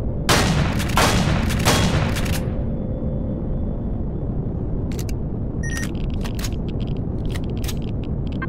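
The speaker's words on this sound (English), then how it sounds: "Let's see if I can destroy these blocks." Shooting to break blocks in the video game Empyrion: a quick burst of several loud, blasting shots up front, then a steady low rumble with scattered sharp clicks and clanks.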